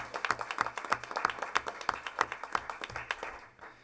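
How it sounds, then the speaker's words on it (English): Audience at a school board meeting clapping, a moderate scattering of distinct handclaps in a loose steady rhythm, fairly quiet and fading out at the end. "Let's give him a round of applause"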